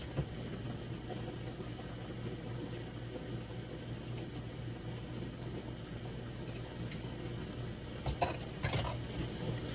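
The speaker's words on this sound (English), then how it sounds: "Stir that up really good." Mushrooms and peppers being stirred into a pot of chicken chili, soft scraping and gentle sizzling close by, with a couple of sharper utensil clinks near the end and no talk.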